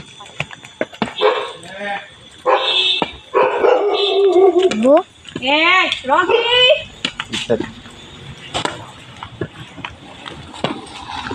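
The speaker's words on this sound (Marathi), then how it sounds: "आमच्या वांगणकर वाडीचं डॉगी आहे भू आहे रॉकी." A dog barks repeatedly in short yips and bursts, fairly close, mixed with people talking around it.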